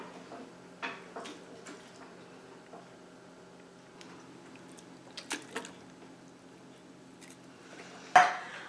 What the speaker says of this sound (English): I got 2 cans of Rotel tomatoes with green chilies in them. They're going into my crock pot right now.